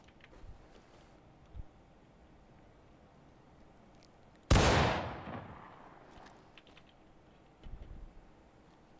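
A single rifle shot fired at a 25-yard target in the video game War of Rights, one loud sharp crack with a long rolling echo trailing away, set against quiet background and faint clicks.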